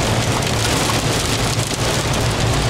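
Pea-size hail storm pelting down hard, heavy enough to bring tree limbs down, with lightning about: a loud, dense, continuous roar of pellets striking surfaces close by, steady throughout with no voices.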